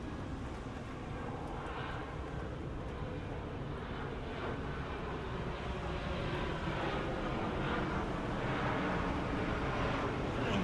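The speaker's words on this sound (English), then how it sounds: "God, that plane was low." A low-flying airplane passes overhead near Burleigh Heads surf beach, its steady broadband engine roar sustained throughout and swelling slightly louder toward the end, with no talk over it.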